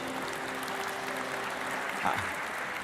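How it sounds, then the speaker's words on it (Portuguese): A church audience gives a fairly subdued round of applause for the winners, a continuous wash of many hands clapping at moderate volume, with a brief voice near the end. "uma salva de palmas para os vencedores aí"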